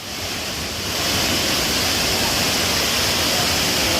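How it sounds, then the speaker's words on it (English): Annadale Waterfall in Grenada, a loud, steady roar of falling water heard up close, a dense continuous rush that swells slightly after the first second, with wind buffeting the microphone. "Let me take you out for a walk under the waterfall."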